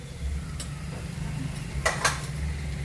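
A spoon scrapes and clinks against a pan or bowl as red chilli powder, turmeric and masala are stirred together for prawn gravy, with a few sharp metallic taps over a low steady background hum.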